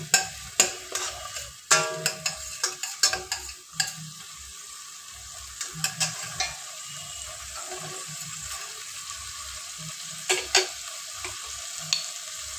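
Food frying in a pan over a high gas flame while being stirred, giving a steady sizzle with repeated scraping clatters of the spoon, close and alone with no voices.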